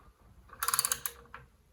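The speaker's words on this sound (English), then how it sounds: "So now I'm turning the crankshaft, I'm turning the gear, but the camshaft is not moving because I removed the bolts" Turning the crankshaft and timing gear of a 1975 Triumph TR6 engine by hand gives a quick run of close metallic ratcheting clicks, followed by one fainter click, in an otherwise quiet space.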